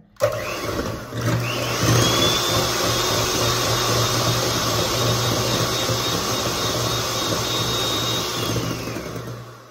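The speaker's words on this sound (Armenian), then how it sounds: "Հիմա միացնեմ։ Մի փոքր ձուն հարեմ, հետո նոր շաքարավազը կավելացնեմ։" An electric hand mixer beats eggs for a matsoon sponge cake, a loud steady motor whine with a low hum that starts after a brief click and runs unbroken to the end, with no talk.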